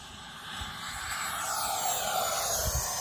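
A Freewing Avanti S 80mm electric ducted fan RC jet makes a fast, low pass, its whooshing fan whine swelling steadily louder and sweeping in pitch as it approaches.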